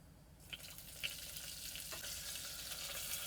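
Cumin seeds and a few curry leaves drop into hot oil and crackle, a steady, fairly quiet sizzle with small pops and spits. No one speaks.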